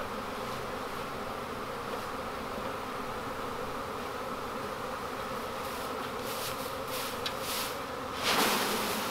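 A swarm of bees hangs from a neighbor's tree branch, producing a dense, continuous buzzing drone close by, steady throughout with a brief louder rustle near the end.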